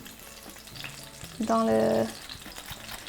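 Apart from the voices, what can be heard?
smelt fish frying in oil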